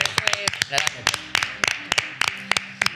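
A small group claps for a guest on a Twitch stream, sharp hand claps in an uneven patter mixed with a speaking voice.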